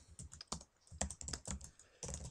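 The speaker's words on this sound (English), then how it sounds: "as I start typing in spam" Fingers type on a computer keyboard in a quick, irregular run of soft clicks and key taps, faint and close, with a short pause before a final burst.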